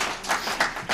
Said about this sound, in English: I'm glad to come here and I get a little applause once in a while.